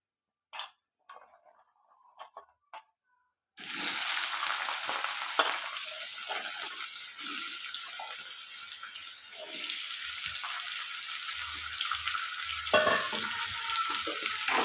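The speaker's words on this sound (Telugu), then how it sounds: "ఇవన్నీ బాగా కలుపుకొని మూత పెట్టకుండా ఇలాగే ఫ్రై చేసుకోవాలండి" Cut potato and carrot are dropped into hot oil in an uncovered pan and stirred. A few clicks and taps come first, then a sudden loud, steady sizzle continues close up with occasional scraping of the stirring spoon.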